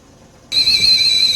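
A tea kettle bursts into a loud, shrill steady whistle after a moment of near silence, holding one piercing sustained tone close by with no voices.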